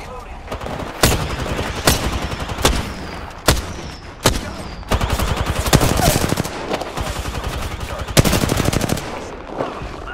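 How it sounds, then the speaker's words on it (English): Gunfire in the video game Apex Legends, rapid automatic bursts and single sharp shots in quick succession, loud and close, with some talk in between. "Opening fire on the enemy. I am taking fire, friends."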